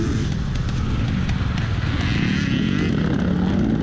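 A Kawasaki dirt bike, number 870, roars at close range during a harescramble race at Bradley Farms, a loud, dense, unbroken engine drone that fills the whole stretch.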